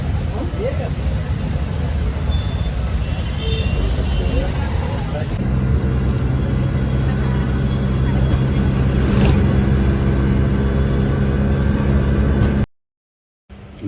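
An auto-rickshaw rolls along with a steady engine drone and road rumble, a voice talking over the noise, before the sound cuts abruptly to silence.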